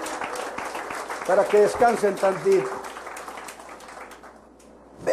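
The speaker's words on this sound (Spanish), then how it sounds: "den un aplauso al Señor" A church congregation applauds at a pastor's call to praise the Lord, a burst of clapping rising under his continuing voice and fading after a couple of seconds.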